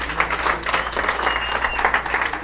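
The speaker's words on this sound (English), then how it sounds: "Give Anita a big round of applause." A convention crowd claps in a steady, dense wash of applause for the party chairwoman, with no speech over it.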